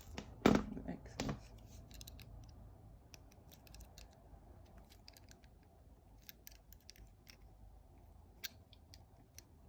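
Two crisp, close snips of wire cutters trim excess jewellery wire while a wire spiral necklace is made, the second slightly softer, followed by quiet clicking and handling noises.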